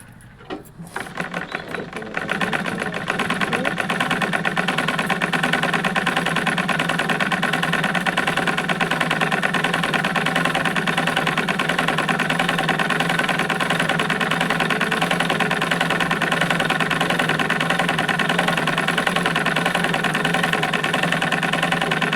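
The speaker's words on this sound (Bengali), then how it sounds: "হয়েছে দুটো সেলাই করা আমার হয়ে গেছে দেখো" A sewing machine runs steadily while stitching a girls' dress, a close, continuous motor whir with rapid needle clatter that starts after a brief rustle and carries on without pause.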